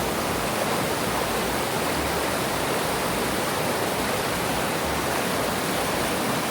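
Forceful stream water rushing and beating against rocks at Horse Cove Campground, a steady dense roar that stays unbroken and fairly loud throughout, with no voices.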